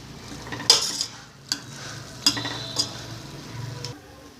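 Raw mango pieces cook in a pan with a soft continuous sizzle, punctuated by a few sharp utensil taps and scraping stirs spaced about a second apart, with no voices.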